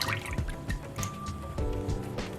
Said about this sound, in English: So for sweet and sour sauce, we're going to start with our pineapple juice